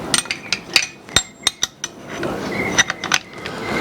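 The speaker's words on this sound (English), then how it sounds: "this is a spanner wrench, and let me show you. It goes in these grooves." A metal spanner wrench clinks and taps against the grooved nut of an angle grinder, a series of sharp, close metallic knocks and rings coming in irregular bursts over a quiet background with no talk.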